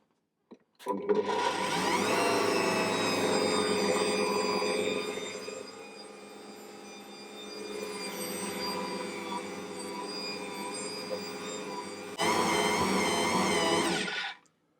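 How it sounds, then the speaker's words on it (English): Ankarsrum stand mixer mixing enriched bread dough, Tangzhong method: a steady whirring motor hum with tonal whine, quieter in the middle stretch, then louder again before stopping abruptly. "I'm going to mix that until it becomes a shaggy dough."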